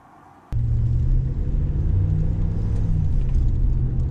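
Stock-suspension 2020 Ram 1500 Night Edition cruising at 50 over bumpy road, a steady loud low engine and road rumble that kicks in suddenly and continues without talk.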